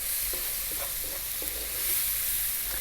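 Fresh tomatoes with salt, black pepper, cumin and chili powder sizzle steadily in a pan, a continuous close hiss with a few soft stirring taps.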